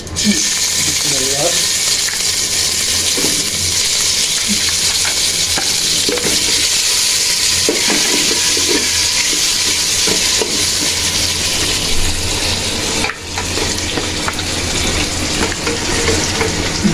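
Chicken pieces for chicken bhuna fry in oil in a pan with a loud, continuous close-up sizzle, broken by stirring scrapes and a brief dip near the end, while people talk faintly in the background.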